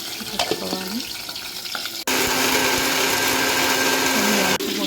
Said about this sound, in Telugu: ఇందులో కొంచెం జీలకర్ర, తర్వాత కొన్ని ధనియాలు, ఒక 2 లవంగాలు, ఇవన్నీ మిక్సీ పెట్టుకోవాలి